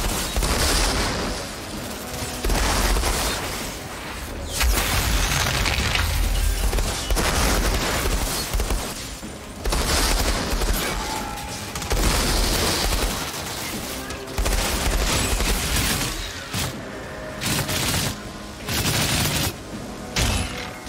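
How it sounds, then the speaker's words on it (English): Sustained automatic gunfire and heavy shots in the Outriders PC video game, loud and continuous across long volleys with short gaps and occasional booms. "Yep, keep firing. Everybody keep firing."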